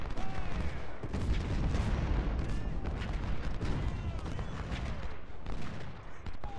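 Civil War battle gunfire in Ultimate General: Civil War, dense overlapping musket volleys and cannon booms crackling continuously at middle distance, with a voice talking over the fighting.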